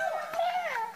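A single drawn-out meow with a rising then falling pitch, close and clear. It may be a person imitating a cat.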